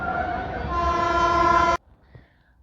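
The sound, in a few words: Shan-e-Punjab Express train passing, train horn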